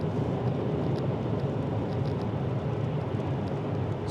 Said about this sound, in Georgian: 20 კილომეტრით მოუმატე სიჩქარეს და 64-დან ავიდა 69 დეციბელზე, ანუ 5 დეციბელით მოიმატა ხმამ სალონში